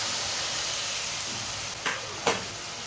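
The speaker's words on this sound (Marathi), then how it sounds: "यामध्ये आता आपण हे तयार केलेलं वाटण टाकून घेऊया." Ground mint masala paste for chicken biryani sizzling steadily in a hot pan, a continuous broad frying hiss with two brief louder spits as more goes in, no voices.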